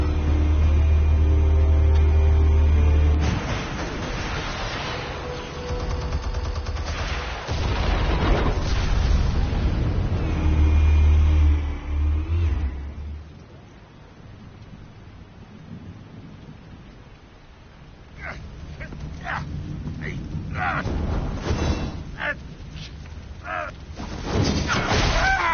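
Explosives detonating in a PS4 video game, with heavy, rumbling booms near the start and around ten seconds, a long thundering roll after, and quieter crackling debris later; a voice speaks briefly.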